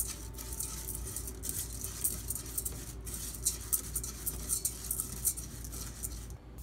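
Vermicelli stirred continuously in a pan with plenty of oil as it toasts golden for a vegetable soup, giving a steady soft scraping and light crackle, with busy clinks of the spoon, close and alone without talk.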